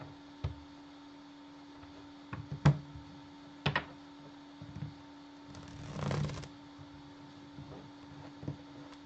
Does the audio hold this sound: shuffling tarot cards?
yes